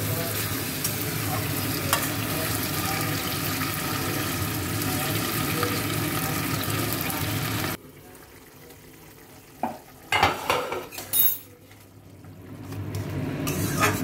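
Loud, steady sizzling of chili paste with green chilies frying in a hot pan for a chilli fish dish, then a sudden drop to quieter stirring and scraping with brief bursts of clatter.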